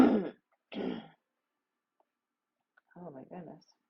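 A person clears their throat and coughs twice in short, rough bursts close to the microphone, then goes quiet and follows with a brief voiced throat noise.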